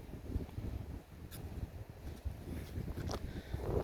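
Steady, low rumbling wind buffets the microphone outdoors on the Gulf of Mexico coast in summer, with gusts rising and falling throughout and a slight swell toward the end.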